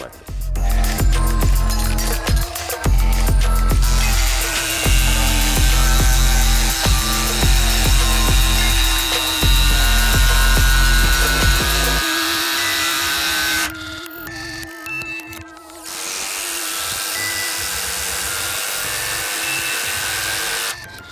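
APRO cordless impact driver sinking long 10x200 mm screws into wood, loud close rapid hammering bursts in repeated runs, then a brief pause and a final stretch of driving that ends in quieter handling noise.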